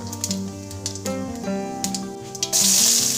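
Fennel seeds hit hot ghee and oil in a pan, setting off a sudden loud, hissing sizzle near the end, after a stretch of steady tonal background sound.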